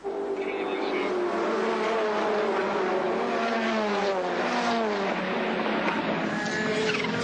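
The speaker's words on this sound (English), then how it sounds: "Good dice going on here as the 35 car is now being pushed along by number 9 there, Greg Hansford" Racing engines, including Ford Sierras, drone loudly and continuously at the 1990 Bathurst race, their whining pitch sliding down as cars pass close by, with a commentator's voice running underneath.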